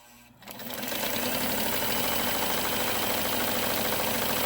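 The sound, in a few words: Sears Kenmore sewing machine stitching a buttonhole with buttonholer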